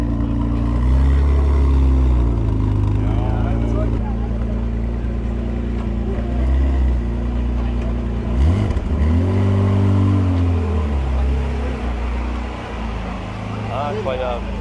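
Jaguar F-Type-style exhaust on a car at a Japan classic car event, a loud continuous engine drone with rising and falling revs, someone talking over it throughout.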